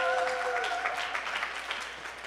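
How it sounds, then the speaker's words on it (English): Applause for the demo staff at a museum sustainability showcase, a fairly quiet, even round of clapping that slowly tapers off, with a brief held tone at the start. "Can give them one more round of applause."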